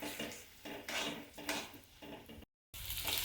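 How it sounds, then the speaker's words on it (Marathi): Onion frying over a high flame for a dhaba-style chicken masala, heard as a close, loud sizzle broken by repeated scraping and clattering of a spatula against the pan, with a brief cut near the end. "कांदा हाय फ्लेमवरती छान भाजून घ्यायचा"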